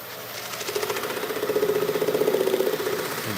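A wood lathe spins up to buff a finished wood bowl, its motor hum rising in pitch and loudness with a rhythmic pulsing whir that swells toward the end, close by and with no talk.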